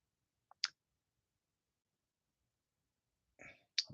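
Two short, sharp mouse clicks from a computer mouse, one near the start and another at the end, isolated in near silence apart from a faint breathy sound just before the second click.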